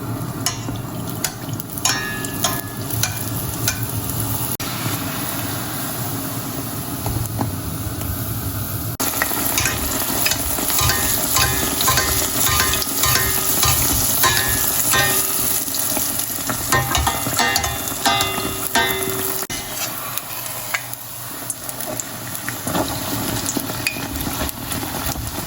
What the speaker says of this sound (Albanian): tani shpejt që të skuqim petullat tona.